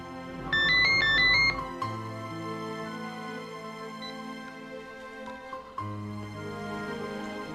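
An incoming call sets off a phone ringtone: a bright, repeating electronic chime pattern rings loudly for about a second near the start, followed by softer sustained tonal music underneath.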